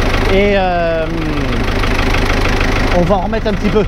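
A tractor's engine runs steadily at idle with a low, rumbling knock beneath someone speaking French close by.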